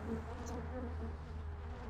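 Honeybees buzz in a steady, low, continuous drone at a beehive being prepared for winter, close and unbroken, with no talking.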